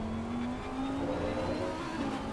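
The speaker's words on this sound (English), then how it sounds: "listen to a little bit of Audi V10 goodness screaming its way down the Bentley Straight" An Audi V10 race car in Assetto Corsa Competizione screams down a straight at Snetterton, a loud, sustained engine note rising steadily in pitch as it accelerates, with no voices over it.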